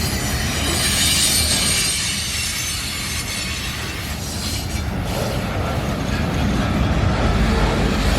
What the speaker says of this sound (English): This is a local train.